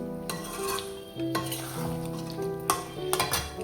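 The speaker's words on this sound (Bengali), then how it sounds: "আজকে শুধু কষা কষাই করবো ঝোল দেব না একদম কষা কষা হবে মাংসটা" Meat being dry-fried in a pan until thick with no gravy, sizzling and frying loudly and steadily, with the scrape of stirring and occasional clinks of a utensil against the pan.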